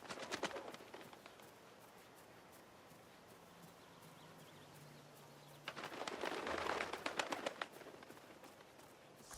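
Pigeons or doves coo in a Hitman video game scene, soft repeated calls over steady ambient hum, with hoof-like clopping and livelier bursts near the start and again toward the end.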